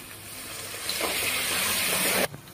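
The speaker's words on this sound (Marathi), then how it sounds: "मसाले आणि ग्रेव्ही शिजायसाठी ना थोडंसं गरम पाणी घालून घेऊया यामध्ये।" Hot water poured into a simmering spiced gravy for hotel-style shev bhaji gives a steady, moderately loud hissing gush for about a second and a half, then stops abruptly.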